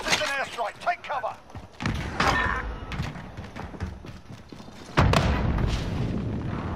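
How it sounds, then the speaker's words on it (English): An enemy precision airstrike hits in Call of Duty Warzone. Sharp, loud booming blasts strike one after another, the last one heavy with a rumbling tail, and voices talk in between. "Enemy precision airstrike, take cover!"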